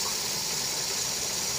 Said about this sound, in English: Okay, the engine is running